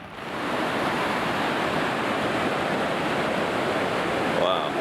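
Fish Creek Falls in the Colorado mountains, a steady loud roar of falling water, broadband and constant from near the falls, with a brief voice at the very end.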